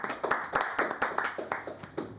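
Hands clap in a quick, steady rhythm of sharp, close claps, roughly four or five per second, a single person applauding in a room with faint background noise.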